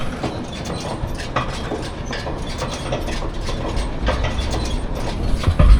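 A hay baler at work in a field, giving off a steady close mechanical clatter with rhythmic ratcheting and knocking from its gears, loud and continuous with no voices.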